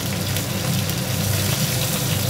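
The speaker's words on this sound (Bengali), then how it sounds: "শুকনো লঙ্কা ফোড়ন দিলাম, আর এই 5 ফোড়ন দিয়ে দিলাম।" Dry red chillies and five-spice seeds hit hot oil for a village-style Bengali sour fish-head dish, giving a loud, steady, unbroken sizzle that fills the whole moment with no talking.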